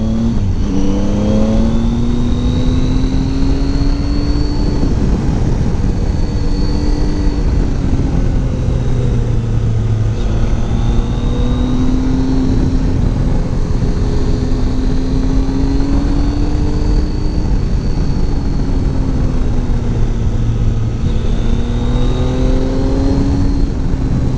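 A Triumph Tiger 800 XRT motorcycle ridden through twisty roads drones loudly and steadily, its engine pitch rising and falling repeatedly as it accelerates and eases off, with constant wind noise.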